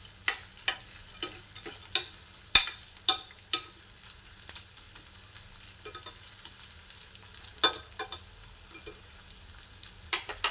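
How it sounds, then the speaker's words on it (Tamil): Beans and carrots sautéing in oil in a pan, with a steady low sizzle and a run of sharp clinks and scrapes from stirring throughout, close and fairly quiet, with no voices. "பீன்ஸ் கேரட்டை நல்லா வதக்கிக்கலாம்."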